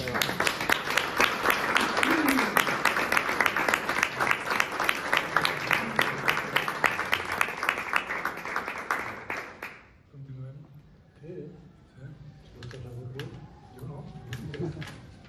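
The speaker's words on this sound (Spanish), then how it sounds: "Un aplauso." An audience at a national flute competition presentation in Benifaió breaks into dense, steady applause for nearly ten seconds, then the clapping cuts off and a few quiet voices and small room noises remain.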